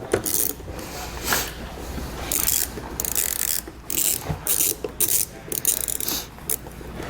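A hand ratchet with a socket drives a bolt during a trailer wiring kit installation, producing close, loud bursts of rapid clicking in irregular strokes separated by brief pauses.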